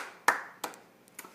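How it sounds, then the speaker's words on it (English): A few separate hand claps, roughly four sharp isolated strikes spaced unevenly over a moment, close and fairly quiet, with no crowd behind them. "so round of applause for Justin."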